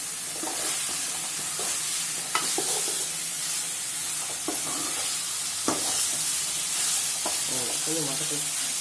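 Curry leaves and coriander sizzle in oil in a pan for an eggplant kulambu, a steady close frying hiss broken by occasional spatula taps and stirring scrapes.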